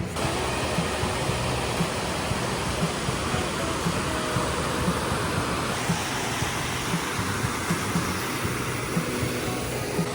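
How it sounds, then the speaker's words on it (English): Waterfall roaring close by on a hiking trail, a dense, steady broadband rush of falling water filling the whole clip with constant loud noise and no break. "I don't even know if you guys can hear me right now because I am right by the waterfall"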